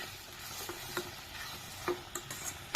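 Sour fish curry with jackfruit seeds frying in a pan, a low steady sizzle close by, punctuated by sharp scraping and tapping stirs, the loudest right at the end, with no voices.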